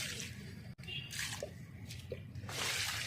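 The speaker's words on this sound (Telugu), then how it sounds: "ఇప్పుడు దీంట్లో కొంచెం వాటర్ పోసేస్తున్నా కదా" Water splashes and drips into a container in a garden in uneven bursts, with a few louder gushes of pouring and small drops between them, close and fairly quiet.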